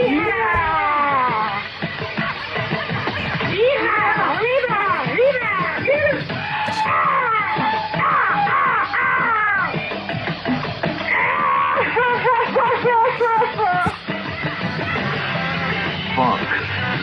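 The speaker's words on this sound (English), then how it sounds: "Sorry about that yelling and screaming, but Pete and I are on a trip" Recorded yelling and screaming played over a radio broadcast, loud harsh shrieking voices in rapid overlapping bursts, continuous and close for the whole stretch.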